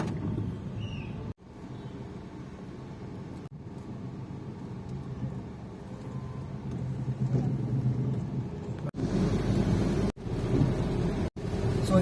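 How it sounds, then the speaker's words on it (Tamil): Heavy rain pelting a car driving on the highway near the Kaveripakkam toll gate en route from Chennai to Mumbai, a steady broadband rush and low road rumble throughout with a few abrupt dropouts, no talk. "நல்லா பயங்கரமாக மழை பெஞ்சிட்டு இருக்குது."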